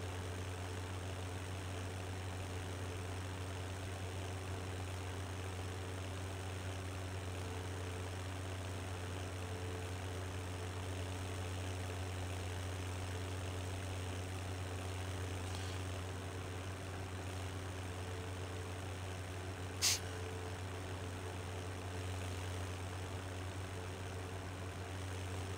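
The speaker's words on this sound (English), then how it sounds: "Now I got a tractor that's kind of a, well, it's the same model as a tractor I used to drive as a kid" A steady low engine idle from a John Deere tractor in a farming simulator game runs unbroken and fairly quiet throughout, with a brief sharp click near the end.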